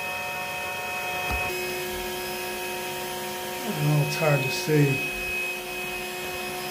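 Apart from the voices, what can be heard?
vacuum sucking up honey bees during a cutout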